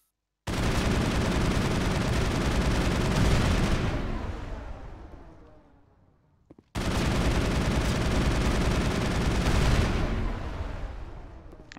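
Sustained loud bursts of gunfire in the Mass Effect video game during a mission on the Moon, two long dense volleys filling the clip with a brief near-silent gap between them, no voices over them.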